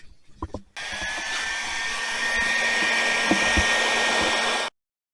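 A hair dryer runs steadily on a cleaned relic military helmet after rust remover treatment, a loud continuous whoosh switching on after a few handling knocks and cutting off abruptly near the end.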